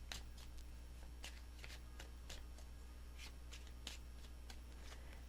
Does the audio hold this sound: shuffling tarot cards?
yes